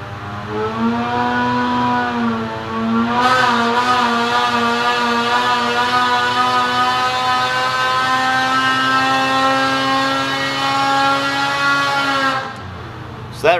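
A snowmobile engine runs on a dyno at minus 14 degrees, holding a loud, steady high-revving drone with a clear rising harmonic pitch for about twelve seconds before cutting off abruptly.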